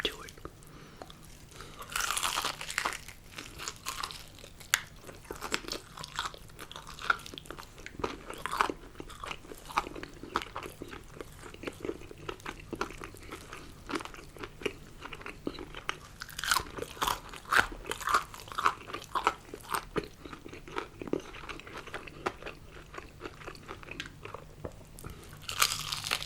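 Crunchy bites and chewing of KFC Extra Crispy fried chicken breast, close and crisp, repeated crackling bites throughout with soft whispered talk between them.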